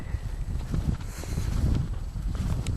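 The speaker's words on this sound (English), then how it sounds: "Very windy." Strong wind gusting during a Midwest Christmas snowstorm, a steady low rumbling buffet with wind noise hitting the microphone, with no talk.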